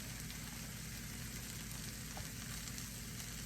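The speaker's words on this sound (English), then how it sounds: "I'm going to drop another piece of butter in here, a small piece of butter." A small piece of butter melts into a hot pan with flour for a homemade green bean casserole, making a faint, even sizzle with no talk.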